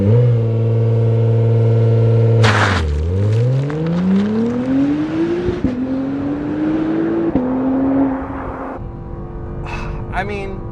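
A 2020 Acura NSX with a 500-horsepower 3.5-liter turbocharged hybrid engine backed by electric motors accelerates hard. Its loud engine note climbs steadily in pitch, drops briefly at each upshift, then rises again, with a few clicks and whooshes near the end.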